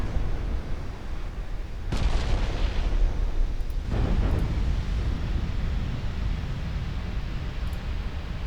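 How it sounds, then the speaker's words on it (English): Heavy cruisers' 11-inch naval guns fire on destroyers in a naval warfare game, giving two booming blasts about two seconds apart over a constant low rumble. "Now getting whacked by 11-inch guns from the heavy cruisers."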